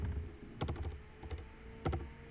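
Keys clatter on a computer keyboard as code is typed, coming in short quick bursts of clicks with brief pauses between, close and fairly quiet with no talking.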